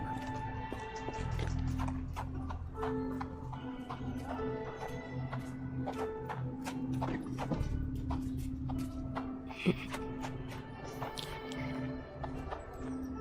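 Horse hooves clip-clopping on a street in the game Sherlock Holmes The Awakened, a steady run of crisp, moderately close clops over quiet ambient game music.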